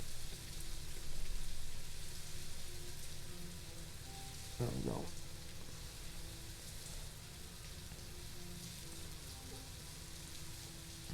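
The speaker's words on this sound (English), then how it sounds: "The rain is relentless." Steady hiss of rain falling in the video game New World runs throughout at a moderate level, with a brief spoken phrase partway through.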